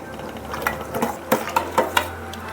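A spoon stirs biryani masala powder into prawn biryani in a pot, giving a string of irregular scraping and clinking strokes over a low, steady hum, with no one speaking.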